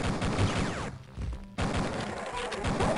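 Rapid gunfire from a small weapon in the game Duke Nukem 3D crackles in dense bursts, pauses for about half a second, then resumes at a steady clatter.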